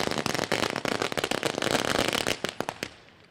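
Firecrackers burst in a dense, rapid crackling barrage at a cricket tournament opening ceremony in Dapoli, loud and continuous before thinning into scattered pops and fading out.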